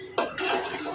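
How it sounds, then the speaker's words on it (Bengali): Meat being stirred and braised in a pot, with a burst of scraping clatter and steady sizzling hiss carrying through the short stretch, close and moderately loud, with no voices. "মাংস কষাচ্ছি,"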